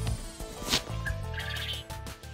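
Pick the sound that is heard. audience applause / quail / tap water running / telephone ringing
quail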